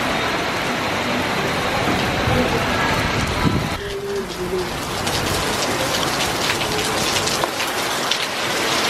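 Heavy rain pours steadily in Thailand, a dense, constant hiss of drops drumming on surfaces close by, with a few faint birds and brief murmurs beneath it.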